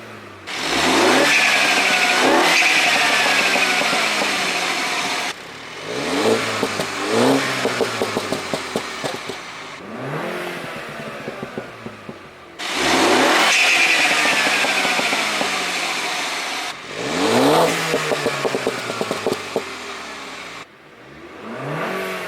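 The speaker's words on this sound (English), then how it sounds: "let's go and give you some revs" A Mini Cooper S F56 with twin exhaust pipes revved repeatedly from idle, each blip rising sharply then falling back, with pops and crackles between bursts, close and loud with no talking.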